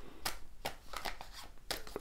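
Tarot cards shuffled by hand in quick riffling bursts, several crisp papery flurries in close succession, near and fairly quiet with no talking.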